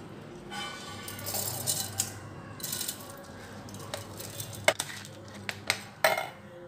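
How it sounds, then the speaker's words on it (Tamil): Drained soaked rice, meant for sweet ghee appam batter, tipped into a mixer grinder jar in a home kitchen, heard as a series of clinks, rattles and a few sharp metal knocks, fairly faint with no talking. "மிக்ஸி ஜாரில் போட்டுக்கலாம்."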